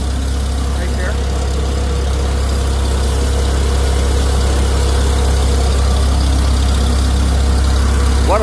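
A snow plow truck's engine idles close by with a loud, steady, deep rumble and constant low vibration that holds unchanged throughout.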